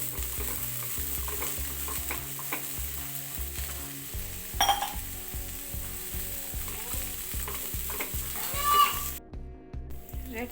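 Boiled corn and onion being sautéed in a pan for masala corn, with a soft sizzle under repeated clinks and scrapes of a spoon stirring against the pan, while someone talks.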